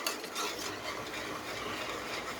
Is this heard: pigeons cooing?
no